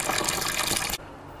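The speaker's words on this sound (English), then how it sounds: "we're adding 15 litres of strike water" Strike water gushing into a mash tun for an all-grain IPA brew, a close, loud rushing pour that stops abruptly just before the end.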